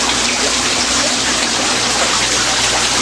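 Pond fountain pumps running at full capacity pour out a loud, continuous rush of splashing water. The steady wash stays even from start to finish, with no voices.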